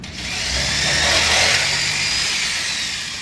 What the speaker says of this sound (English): I do it right here with a skill saw.